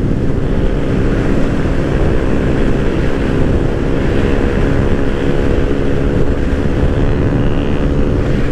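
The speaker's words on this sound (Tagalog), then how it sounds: "Lakas ng hangin eh, hindi tayo makadulo." Strong wind roars steadily against the microphone while riding a motorcycle in an endurance ride in the Philippines, a constant loud rumble with engine noise beneath it.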